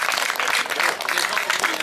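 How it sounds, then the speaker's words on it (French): Audience applause at an outdoor community gathering in Brittany, a dense, continuous wash of many hands clapping at once, loud and close, with voices mixed into the crowd noise. "Alors franchement, moi j'applaudis bien fort."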